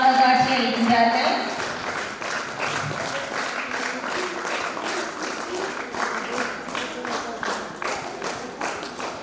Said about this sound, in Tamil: மாணவியர் கரவொலி எழுப்பி அவர்களை பாராட்டுவோம்